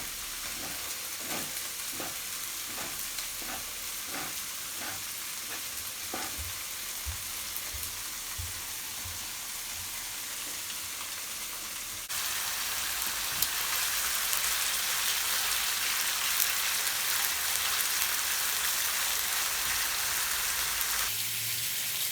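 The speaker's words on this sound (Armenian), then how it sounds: "Հավի կրծքամիսը դրեցի թավայի մեջ, լցրել եմ թավայի մեջ եւ թողնում եմ տապակվի" Thin strips of chicken breast fry in a pan with a steady, close sizzle and crackle, with rhythmic stirring taps in the first half and the sizzle growing louder and brighter in the second half, with no talking.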